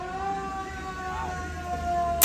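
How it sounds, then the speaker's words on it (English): A modified car out in public emitting an ambulance-like wailing siren tone, steady and moderately loud with a rising-falling sweep, ending in a brief sharp knock. "it may sound like an ambulance, but it's not. It's actually just a car that has been modified"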